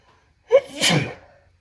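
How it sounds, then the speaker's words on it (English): A single sharp sneeze, close and loud, with a short intake of breath just before it and quiet afterward. "So I'm gonna sneeze."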